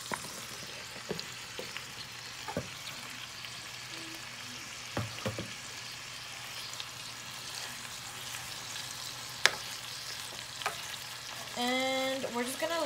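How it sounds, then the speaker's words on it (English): Cabbage frying in a pan with softening onions, a steady low sizzle with occasional stirring clicks and scrapes, fairly quiet, with a brief tonal squeal near the end. "And then I'm gonna go ahead and add the cabbage."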